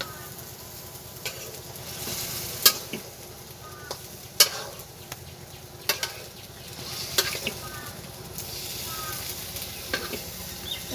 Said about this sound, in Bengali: বন্ধুরা, আমরা ঢাকনাটা খুলে দিয়ে একটু নাড়াচাড়া করে দিচ্ছি মাংসটাকে।